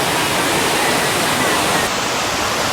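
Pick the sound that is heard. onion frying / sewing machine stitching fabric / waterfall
waterfall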